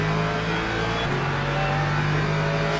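A McLaren race car in Le Mans Ultimate speeds along the track, its engine a steady, loud drone with continuous high-revving tone throughout, no speech over it.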